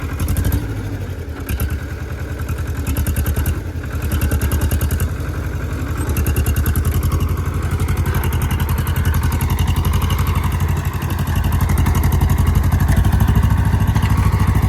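A homemade jugaad vehicle's engine, fitted with a different silencer, runs steadily up close with a loud, continuous rhythmic chugging throb throughout.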